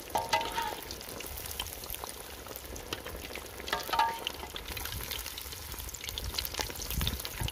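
Chicken legs fry in very hot oil with a continuous close crackling sizzle, with occasional soft stirring or clinking accents throughout.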